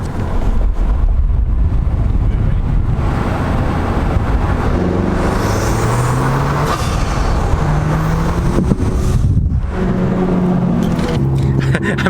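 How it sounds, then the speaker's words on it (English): A 2020 Honda Civic Si fitted with a PRL cold air intake accelerating hard, recorded from outside the window at speed, with a loud steady engine and heavy wind roar throughout and rising tonal pulls as it climbs through the gears. "let me go ahead and do another pull for you guys, just so you guys can hear this"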